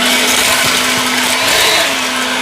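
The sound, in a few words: EGO Power+ LB7650 cordless leaf blower running with nozzle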